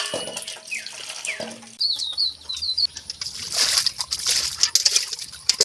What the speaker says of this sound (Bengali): তাহলে মাংসগুলো ভালো করে ধুয়ে নিই